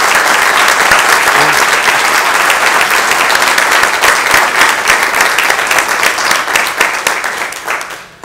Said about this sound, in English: giving a round of applause to these 3 guys